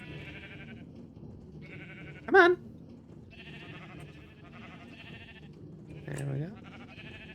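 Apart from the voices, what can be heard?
sheep bleating while being herded into a pen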